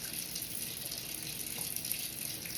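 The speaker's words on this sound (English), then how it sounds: "I'm letting the water get hot first." Tap water running into a sink while it heats up, a steady, close hiss and splash with no pauses.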